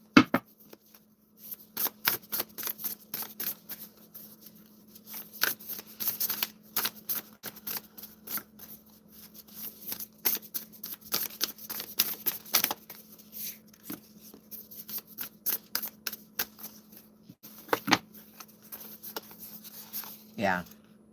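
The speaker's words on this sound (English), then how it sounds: "you saw me shuffling that deck" Quick bursts of cards being riffled and snapped, repeating in uneven clusters, fairly close, with a steady low hum underneath.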